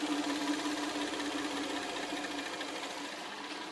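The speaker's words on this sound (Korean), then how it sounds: "엔진 소음 먼저 들려드리면은" A steady Hyundai V6 engine idling, a continuous low rumble with a dense mechanical clatter on top, close and unchanging throughout.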